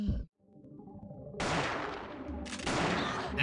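Gunfire in the video game Parasite Eve II: a sharp shot, then a loud, sustained burst with a second heavy blast that rings out, with no talk.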